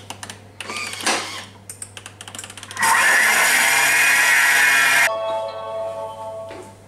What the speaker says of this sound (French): on va mixer 15 secondes à vitesse 10